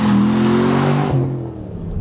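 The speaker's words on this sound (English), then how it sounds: "Really lay it down and my God, it just takes off." A 2014 Chevrolet Camaro Z28 accelerating hard on a race track, its V8 engine note rising loud and close before cutting off abruptly as it upshifts or lifts.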